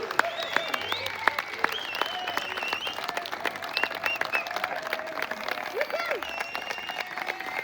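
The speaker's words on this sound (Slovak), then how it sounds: "Veľký potlesk!" An audience claps for a folk band from Horná Poruba at a CD launch event, with dense, steady applause and scattered sharp claps filling the clip while voices carry on over it.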